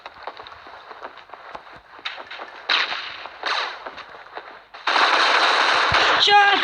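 Rapid automatic weapon fire in an online shooter video game rattles in dense bursts, with louder sustained firing near the end, loud and close throughout.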